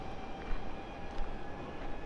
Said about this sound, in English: you can hear people on those zip lines, they sound like a train or a jet flying over